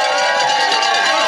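A crowd lines a Cornish trail running race, cheering and shouting encouragement to passing runners in a dense, loud, continuous roar.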